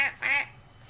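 Two quick, nasal quacks from a duck near a pond, close and clear, then quiet.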